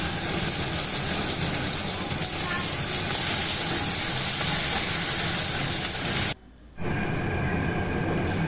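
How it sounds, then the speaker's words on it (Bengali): Chopped onions fry in hot oil with whole garam masala of cinnamon, green cardamom and cloves, giving a loud, steady sizzling hiss that runs nearly unbroken, with one brief drop to near silence. "দিয়ে দিলাম কুচনো পেঁয়াজ। পেঁয়াজটাকে খুব ভালো করে ভাজতে হবে।"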